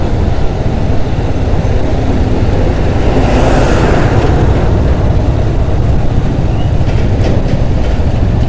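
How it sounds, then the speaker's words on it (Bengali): A train rolling along a nearby railway line at night, a loud continuous rumble with rhythmic clatter of wheels over rail joints, steady and close throughout without speech. "ট্রেন যাচ্ছে, পাশের যে ট্রেন লাইন"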